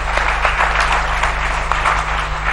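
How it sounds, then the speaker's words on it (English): Conference audience applause, heard as a dense, even wash of many hands clapping at once, loud and steady throughout, with a low electrical hum beneath. "Can we have a warm round of applause for Mr. Ajay Piramal?"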